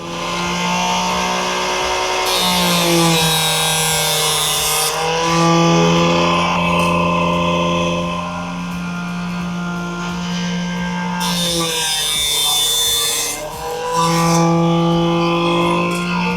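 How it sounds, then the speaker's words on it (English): A powered saw cuts Easton 5mm lightweight arrow shafts, giving a loud, steady motor whine that dips and rises in pitch several times as the shaft is rotated and pushed through the blade. "One thing to remember while you're cutting these is always rotate the shaft as you go through the saw."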